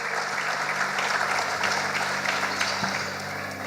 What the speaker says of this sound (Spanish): démosle un aplauso al Señor por ellos